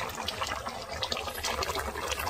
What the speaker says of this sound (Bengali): একদম ফুটছে, ফটফট ঠকফট করে।